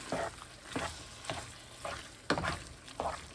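Ground meat for wet burritos fries in a pan, giving a steady sizzle with about six regular scraping stirs spaced roughly half a second apart, close and alone without talk.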